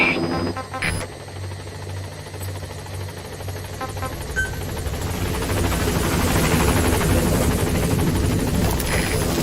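The Pequod helicopter arrives at the landing zone in Metal Gear Solid V: The Phantom Pain, its rotor chop swelling from moderate to loud and close over several seconds amid a steady game soundscape.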